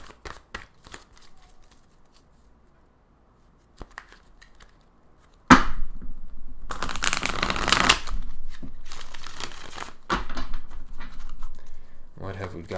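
Tarot cards are handled: a few light taps at first, then a fuller riffling shuffle of several seconds and more card rustling, with a faint voice in the background.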